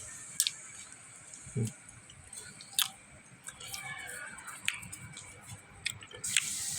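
Roasted almonds are chewed as a snack, with scattered crunchy bites and soft mouth sounds, fairly close but quiet, breaking through at irregular moments.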